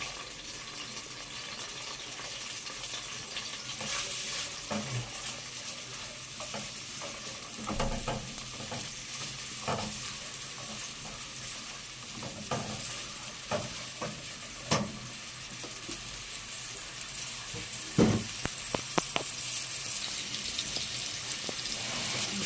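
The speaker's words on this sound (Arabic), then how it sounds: "حاجات جميله كده بحمرها مع البصلايه" Onion frying and sizzling in a pan, with steady broadband crackle and occasional louder pops and stirring scrapes throughout, alone without talk.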